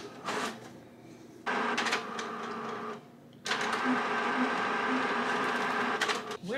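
A home printer that is out of ink runs in bursts, with a mechanical whirring and rattling feed that stops and starts twice before a longer final pass, close and fairly quiet, with no talking.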